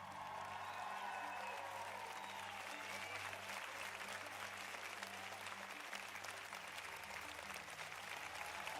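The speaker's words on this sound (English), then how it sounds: "Let's give them a round of applause." Sustained applause from an audience, dense and steady for about nine seconds at fairly low volume, with no clear voices over it.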